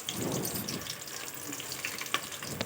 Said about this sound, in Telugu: ఇలా ఆయిల్ వేడైన తర్వాత పచ్చిమిర్చి ఉల్లిగడ్డ ముక్కల్ని వేసుకోవాలండి